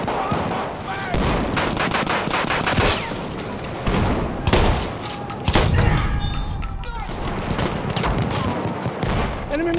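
Rapid machine-gun bursts rattle through a Battlefield 1 battle, dense and continuous with heavier booming shots mixed in, fairly loud throughout with no pauses.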